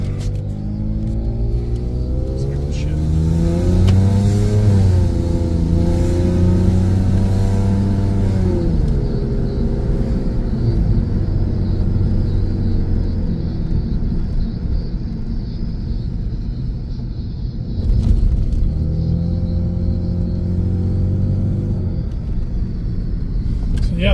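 A Toyota Supra engine pulls hard while driving, revs rising and falling in repeated gear climbs, a loud close rumble with a brief lift before accelerating again.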